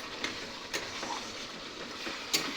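Chicken curry being stirred in a pan: a steady low sizzle with a few soft scrapes and clinks of the spoon, close and fairly quiet, with no talking.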